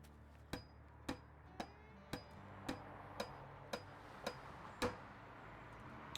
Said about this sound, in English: Get our hammer out again